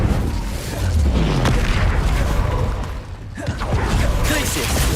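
A fire spell is cast in the video game Hogwarts Legacy, a loud burst of roaring, crackling flame and booming impacts that fills the clip, dips briefly, then surges again.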